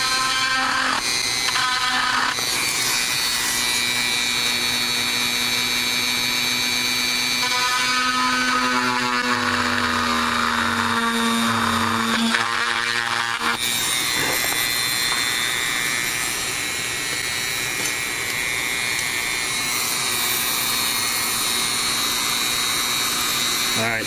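Rotary tool spinning at medium speed while plunging a hole into a DJI Mavic Pro drone battery clip, a steady high-pitched whine with shifting tones as the bit bites in, close and continuous.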